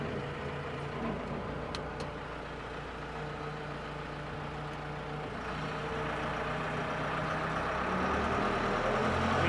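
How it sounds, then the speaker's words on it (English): A JLG Gradall G9-43A 9,000 lb diesel telehandler engine runs at a steady, close idle, a broad continuous drone that grows slightly louder toward the end, with no one speaking. "Let me start her up and I'll show you what she can do."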